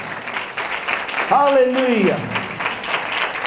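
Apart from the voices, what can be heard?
congregation applauding loudly in church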